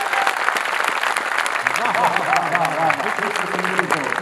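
An audience at a Hindi comedy poetry show applauds, dense continuous clapping throughout, with talk and vocal sounds mixed in over the second half.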